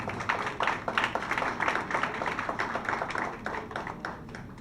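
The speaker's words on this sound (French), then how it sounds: "On applaudit Fédia Stanislas." An audience claps at a literary event in Haiti, welcoming a young writer: steady, moderately loud applause with overlapping hand claps throughout, no talking.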